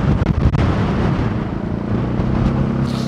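Strong wind during Typhoon Tino roars as a continuous, loud broadband rush with gusty buffeting, mixed with rumbling from a nearby Zontes 400G motorcycle ride.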